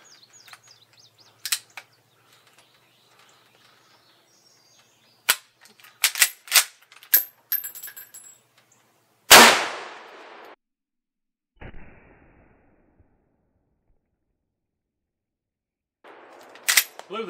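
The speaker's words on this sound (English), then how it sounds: "see if I can hit this cantaloupe while I'm out of breath" A 30-30 rifle fires at a cantaloupe outdoors, with one loud sharp report followed by a short ringing tail, plus scattered clicks and knocks of handling before and after.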